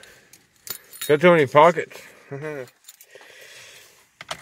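Keys jangle and clink in bursts while someone rummages through pockets beside a car, with a person talking in between the rattles.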